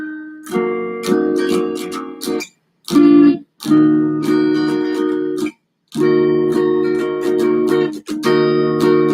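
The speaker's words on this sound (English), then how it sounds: "Now the rhythm chords, let's sound a little something like this right here" Rhythm guitar chords strummed in short bursts of a few seconds each, separated by brief pauses, played loud and close with no talking.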